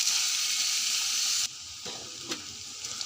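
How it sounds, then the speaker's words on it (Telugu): Onions and green chillies frying in hot oil in a kadai, a steady loud sizzle that drops to a quieter crackle halfway through, with a brief clink or stir near the end. "ఉల్లిపాయలు బాగా వేగాలండి."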